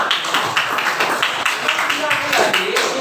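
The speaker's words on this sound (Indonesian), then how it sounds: "Ya, beri tepuk tangan." A class of students applauding, a burst of scattered hand clapping in a classroom, fairly loud and close, with some voices mixed in.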